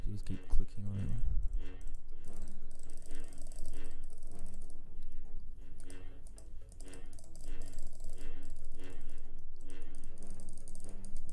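Rapid mouse clicking while playing Saber Simulator, a fast, steady run of light clicks repeating throughout, fairly close and quiet, with a voice talking over parts of it.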